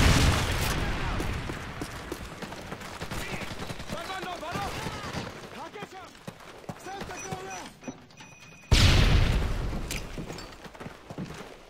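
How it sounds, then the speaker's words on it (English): Call of Duty: Modern Warfare 3 team deathmatch, where a Predator missile strike lands as a loud, abrupt explosion amid ongoing gunfire and battlefield clatter, with voices talking throughout. "Friendly Predator missile inbound."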